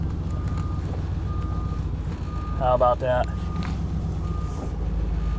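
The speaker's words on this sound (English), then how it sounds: "it beeps when you're backing up" A tow truck's reversing alarm gives a short run of rapid electronic beeps over a low engine rumble, with someone speaking briefly.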